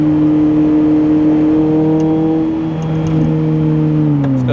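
A Lotus Elise's small four-cylinder engine drones steadily while driving in third gear, a loud, rough-edged hum that holds even then shifts pitch near the end as revs change, with no talk over it.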